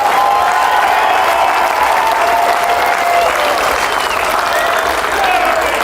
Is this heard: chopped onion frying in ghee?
no